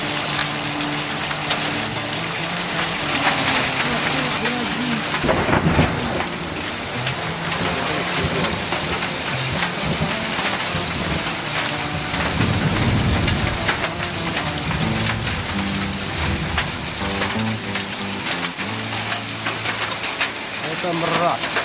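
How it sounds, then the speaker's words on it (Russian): Heavy rain mixed with hail pours down outdoors as a dense, continuous hiss and patter, with occasional louder bursts of impacts and distant low rumbles, while people speak over it. "Град. Град."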